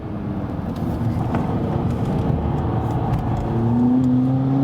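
A VW Polo GTI with stiffened suspension driving hard on a racetrack, its engine droning steadily close up, then rising in pitch near the end as it accelerates.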